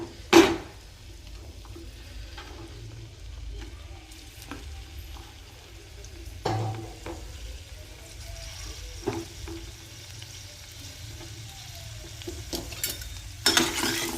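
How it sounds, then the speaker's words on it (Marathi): Onions frying in oil in a wok, with a steady soft sizzle and occasional clinks and stirring scrapes from a utensil against the pan, close and alone without talk. "त्यामध्ये आता मी कांदा टाकून घेत आहे।"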